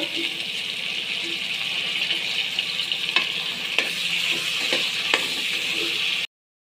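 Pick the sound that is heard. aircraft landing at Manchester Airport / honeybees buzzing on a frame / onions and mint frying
onions and mint frying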